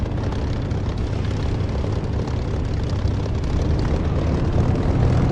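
A Huey helicopter's engine throttles up in the DCS flight simulator, a steady, loud turbine roar with a dense whining drone that builds slightly toward the end, no voices.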